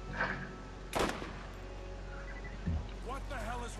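Gunfire in the Borderlands video game sounds as a few sharp, fairly loud bursts spaced out over a few seconds, with people talking in between and over them.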